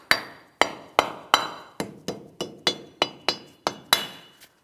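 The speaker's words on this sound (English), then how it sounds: "We'll tap this in place using a rubber mallet." A rubber mallet taps a protective axle cover into place on the front suspension of a 2007-2014 GMC Sierra 2500 HD, giving about twelve sharp, evenly spaced knocks at close range with a hard, slightly ringing edge and no talking.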